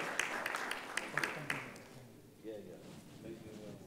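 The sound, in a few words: audience applause at a festival session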